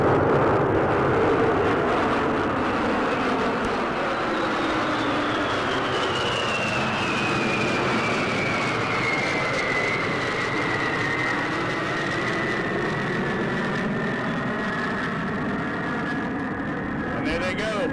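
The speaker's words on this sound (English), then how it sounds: "You can see those two B-52s and those two F-15s right as we speak flying over." Two B-52 bombers and two F-15 jets fly over New Orleans in a military flyover, a loud sustained roar whose pitch slowly falls as they pass, with voices faintly underneath.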